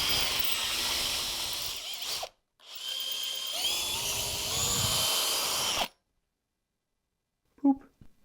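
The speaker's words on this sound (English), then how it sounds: "I drill the holes through the wood and into our plastic here" A power drill bores holes through wood into plastic while making an axe, two whirring bursts of several seconds each separated by a short pause, then quiet with a brief knock at the end.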